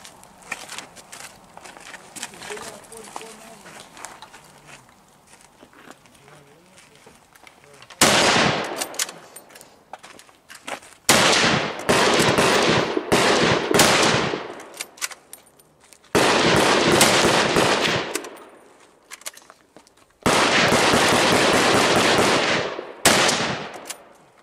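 Bursts of rapid scout rifle gunfire in a zombie shooting game, loud and close, coming in several sustained volleys separated by brief quieter stretches, with faint voices early on.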